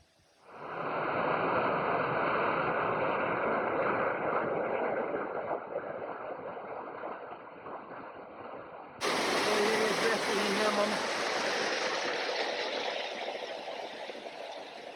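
A waterfall roars in a steady, dense rush that holds loud and close throughout and brightens partway through, with faint talking in the background.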